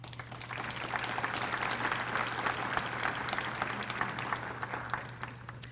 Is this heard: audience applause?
yes